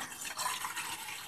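Water poured into a cooking pan in a video game, a short, soft, steady splash and trickle of filling liquid with no talking.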